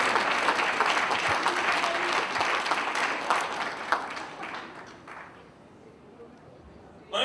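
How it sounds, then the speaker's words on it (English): An audience at a JN outlook event claps in a loud sustained burst that gradually thins and fades over several seconds, leaving a quieter tail. "Give yourself a round of applause."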